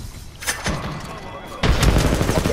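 Explosions from an airstrike bombardment in Apex Legends, booming blasts with a sharp burst near the start and a heavier rumbling barrage in the second half, loud and close, with a player talking over it.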